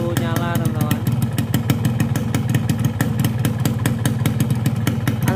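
A two-stroke motorcycle engine running Orange Eco Blue 2T oil idles loud and close just after starting, with a rapid, steady popping rhythm and a brief rise in pitch at the start.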